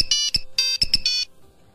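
An old-style mobile phone ringtone serves as a quiz buzzer, a loud bright electronic melody of short beeping tones in quick bursts, played alone for under two seconds.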